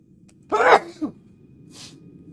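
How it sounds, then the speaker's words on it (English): A person sneezes once loudly and close, followed quickly by a short cough, then a softer breathy sniff or exhale, with no speech. "Yeah, coughing and sneezing"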